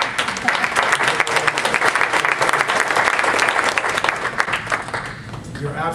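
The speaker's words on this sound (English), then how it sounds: "I wanted to give a round of applause for it." Loud, dense applause from a conference audience at a healthcare leadership keynote, steady rapid clapping filling the room for about six seconds before tapering slightly at the end.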